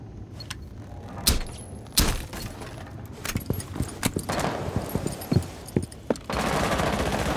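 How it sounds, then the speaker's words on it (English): Rapid gunfire in Rainbow Six Siege, with sharp, close shots and bursts scattered irregularly, some single cracks and some quick clusters, over quieter metallic clatter, ending in a steady hiss of noise. "they're shooting at me"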